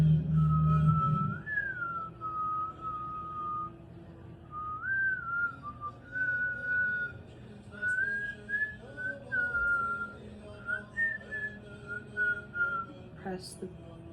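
A person whistles a wavering, sustained melody during a face-touching ceremony exercise, clear and close, with short pauses between phrases and a soft quiet room behind.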